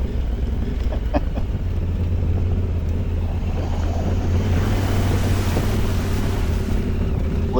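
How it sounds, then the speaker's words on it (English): Dirt bike ploughing through a real water crossing on a Chattahoochee forest trail, engine rumbling close with a rush of splashing water and wind noise building toward the end. "Oh, and a real water crossing."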